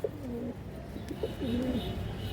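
A silver-coloured male pigeon with red eyes coos in two soft, low rolling phrases, close and moderately quiet over faint background noise.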